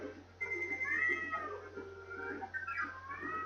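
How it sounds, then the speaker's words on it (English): A cat meowing indoors: a string of drawn-out, insistent meows at close range, one running into the next over a steady low electrical hum. "I will never understand my cat's obsession with never meowing so obsessively until I start streaming."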